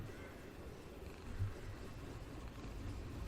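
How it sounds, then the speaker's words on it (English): A cat purring in the video game Summer of '58, a faint, low, continuous rumbling purr that swells briefly near the middle, with no talk. "There's a cat!"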